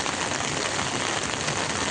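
Heavy monsoon rain pouring down in July, a dense, even hiss of drops drumming on surfaces, loud and continuous with no voices.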